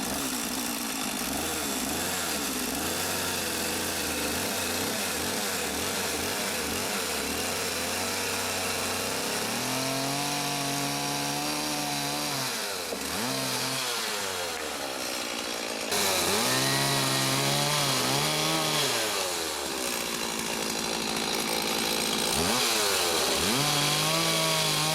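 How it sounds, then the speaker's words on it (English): A chainsaw runs continuously at close range, cutting the log legs of a log coffee table, its engine revving up and bogging down repeatedly as it bites through wood. "I'm going to take my chainsaw and I'm going to cut them off"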